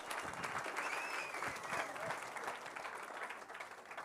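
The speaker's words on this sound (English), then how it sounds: "I'd like to ask you guys to give one more big round of applause to Nedbank" A crowd at the Nedbank Cycle Challenge 2020 prize-giving claps for the sponsor, a full, sustained round of applause with faint cheering, holding steady for several seconds.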